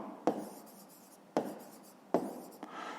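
Pen writing out a math solution on paper, three quiet, sharp tap-and-scratch strokes spaced about a second apart with faint scribbling between them, close and soft.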